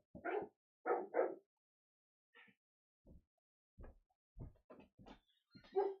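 A dog barks in a series of loud, close bursts, a quick double bark followed by scattered shorter yips and barks, heard alone in a quiet room.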